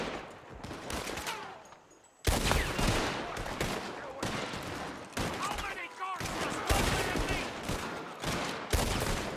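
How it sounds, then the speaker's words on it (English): Gunfire in Red Dead Redemption 2, with rapid cracking shots and volleys that come in bursts, loud and close, over a continuous background of game sound. "Oh, hear that gun noise?"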